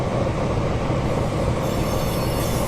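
A passenger train in the Train Simulator 2017 game rolls slowly into a station platform on the South Wales coastal line, giving a steady, loud, continuous rumble of wheels on rails with a faint high squeal and no talk.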